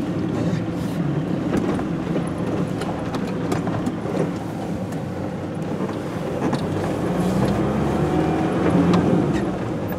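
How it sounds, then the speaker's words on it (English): A Land Rover rolls down a slope in gear, engine braking: a steady low rumble and rattling drive noise with wind buffeting the microphone, getting slightly louder toward the end. "which is why we just allow the vehicle to come straight on down"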